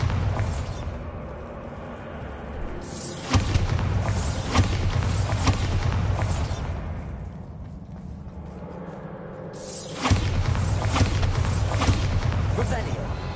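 Bombarda blasting spell in a Harry Potter video game: two heavy, booming explosions go off several seconds apart, each a sudden loud blast that rolls into a long rumbling decay over a busy background.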